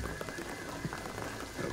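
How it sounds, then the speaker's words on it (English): Heavy rain pours down in the video game Shadow of the Tomb Raider, a continuous dense hiss of drops hitting surfaces, with a few low thuds mixed in and no voices. "the rain is gonna flood it"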